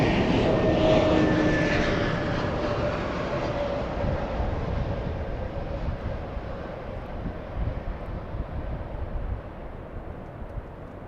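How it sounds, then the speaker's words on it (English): A Delta Air Lines Airbus A321neo arriving at Los Angeles International Airport from Seattle, its engines a loud, broad roar that slowly dies away as the jet passes. "Delta's 2914 flying in from Seattle, Washington. A321neo, that's a 2-hour flight from Seattle."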